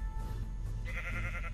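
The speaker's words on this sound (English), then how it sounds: "Sheep." Bleating of sheep inside a video game, a brief run of cries rising midway over a steady game background, with no talk.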